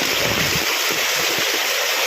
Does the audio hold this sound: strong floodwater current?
yes